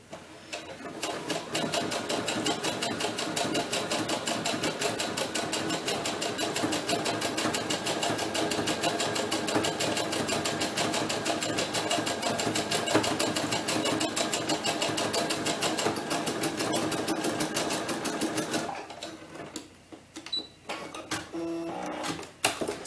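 A sewing machine stitches a seam on a small doll T-shirt, running steadily at close range for about nineteen seconds before stopping, followed by a few faint handling sounds.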